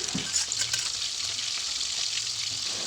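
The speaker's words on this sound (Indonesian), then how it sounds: "Dengan minyak goreng yang sama, saya menggoreng ikan asinnya." Oil sizzles and crackles steadily as salted fish fries in a pan, a constant close hiss with a few light stirring scrapes.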